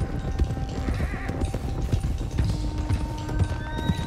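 Horses gallop in Red Dead Redemption 2, a steady rapid clip-clop of hooves close by with a neigh mixed in, over a low rumble of movement and no talking.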